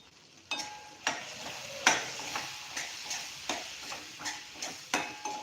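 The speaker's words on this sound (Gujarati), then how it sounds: "મસાલાને આપણે મિક્સ કરી લઈશું" Spice masala, including coriander-cumin powder, stirred in a pan over a low flame, giving a steady run of about ten sharp scraping strokes at a regular rhythm, close and clear, with no talk.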